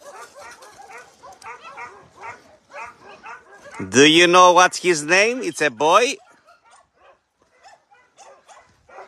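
A happy dog at an animal shelter barks loudly in a burst of several yips and whines while playing with another dog, with people talking before and after.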